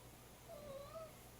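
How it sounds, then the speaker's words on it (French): A house cat gives one short, faint meow, quiet and at a distance, over a low steady room hum. "en ce moment, on entend mon chat qui miaule"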